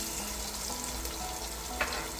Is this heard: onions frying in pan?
yes